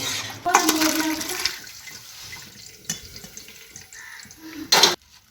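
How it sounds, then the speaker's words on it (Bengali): Boiled green jackfruit being strained, with a loud burst of water pouring through a colander into a sink, then a quieter stretch and a second short gush near the end. "এবার এটাকে আমি ছেঁকে ভালো করে জল ঝরিয়ে নেব।"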